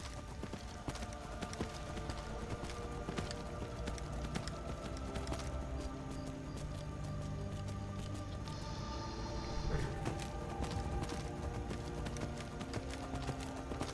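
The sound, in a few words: horse galloping in Skyrim video game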